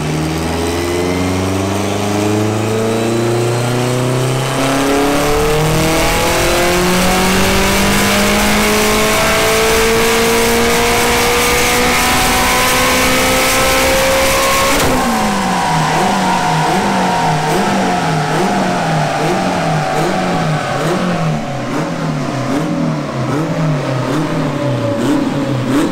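A light four-wheel-drive race car with a sequential gearbox revs hard and loud, its engine pitch climbing through the gears with a quick shift midway, then settling into a buzzing, wavering drone close to the listener.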